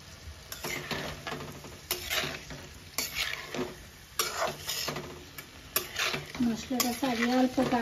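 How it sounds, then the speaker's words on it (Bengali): Homemade spice paste for a cauliflower fish curry frying and being stirred in a pan, with close, steady sizzling broken by repeated scraping strokes of a utensil, while a voice talks over it. "মশলাটা ছাড়িয়ে অল্প কাটাইলাম"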